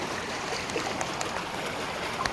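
Water runs steadily down a decorative wall fountain in Doha, Qatar, a continuous close trickling wash with no voices over it.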